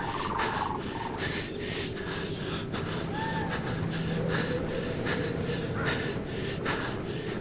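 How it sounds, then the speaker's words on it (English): Heavy, labored in-game breathing from a survival video game, repeating in steady rough gasps and snorts over a constant noisy background, close and fairly loud throughout. "Yep, listen to that breathing."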